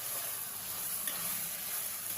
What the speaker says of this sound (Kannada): ಈ ಥರ ಮಿಕ್ಸ್ ಮಾಡಿಕೊಂಡು ಒಂದು ಸ್ವಲ್ಪ ಹೊತ್ತು ಇದನ್ನು ಬೇಯಕ್ಕೆ ಬಿಡಬೇಕು.